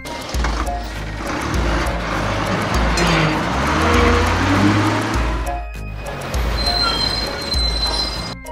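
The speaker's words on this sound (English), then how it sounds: "Amsterdam bus." An animated Amsterdam bus on the move produces continuous close traffic noise, a dense roar with screechy wheel-like squeals, briefly thinning out toward the end and then picking up again.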